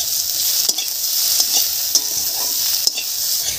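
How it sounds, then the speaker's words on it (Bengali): Chopped onions with salt fry in a pan with a constant bright sizzle, punctuated by soft scraping stirs and a few small clicks of the utensil against the pan. "লবণ দিয়ে পেঁয়াজটাকে বেশ কিছুক্ষণ নাড়াচাড়া করে নিয়েছি"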